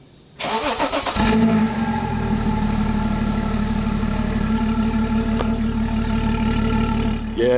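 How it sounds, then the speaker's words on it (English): A BMW X5 diesel engine with an aftermarket intake cranks and catches on a cold start after a brief whir, then settles into a steady, loud, rough idle nearby for several seconds. "Get a good cold start for everyone, showing how the exhaust sounds."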